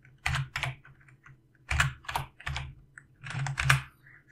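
Typing on a computer keyboard, close and fairly quiet, comes in irregular clusters of key clicks separated by brief pauses. No voices are present.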